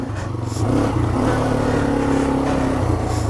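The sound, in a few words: Yamaha TW200 motorcycle engine revving on throttle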